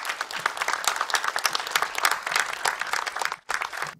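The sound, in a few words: audience applause welcoming guests on stage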